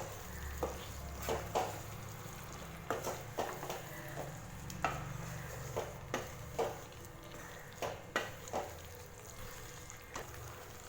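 A spoon stirs lemon pickle mixed with lemon juice in a pan over low flame, giving repeated scraping clicks and knocks at an uneven pace over a low sizzle, close and fairly quiet.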